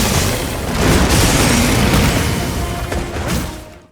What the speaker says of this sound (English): you can still fire a faster version of Wyvern Fire